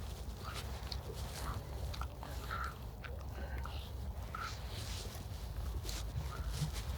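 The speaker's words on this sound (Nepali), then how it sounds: "रानी हाँस" Mallard ducks quack repeatedly in a London park at Northala Fields, with short nasal calls scattered at irregular intervals over a low, steady outdoor rumble.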